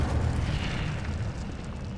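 An Incendio fire spell is cast in Hogwarts Legacy, a loud, rumbling burst of flame that roars continuously for a couple of seconds before easing slightly, with no voices.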